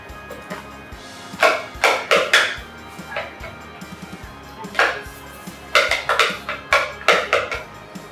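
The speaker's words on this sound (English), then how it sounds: "So what I'm gonna do now is take off the food processor and add it to this bowl" Vegan chocolate chip cookie dough scraped from a Hamilton Beach food processor into a mixing bowl, with sharp clattering knocks and scrapes of a utensil against the bowl and blade in irregular bursts.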